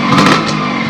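A two-stroke motorbike engine revs loudly and close for a brief moment, its buzzing tone rising then holding.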